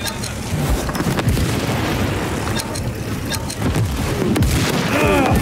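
Heavy artillery explosions boom and rumble in a World War 3 battle, loud and continuous, with a few distinct blasts over a dense roar of combat noise.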